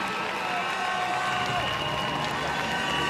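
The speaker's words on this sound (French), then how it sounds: "Elles attendent vos applaudissements chaleureux pour les encourager." Audience applause and cheering from a crowd at the Miss Côte d'Ivoire 2026 final, steady and dense for the whole stretch, with a hint of voices mixed in.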